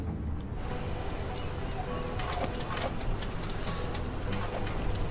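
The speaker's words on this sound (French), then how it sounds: "Il pleut, c'est maintenant." Steady rain falls outdoors as a constant broadband hiss with scattered drop ticks, continuous and moderately loud throughout, with no voices over it.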